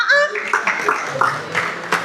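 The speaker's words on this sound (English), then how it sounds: "Please, let's appreciate ourselves. Clap for yourself." An audience at an anniversary open house claps for itself, a brief scatter of hand claps in uneven bursts close by, mixed with talking.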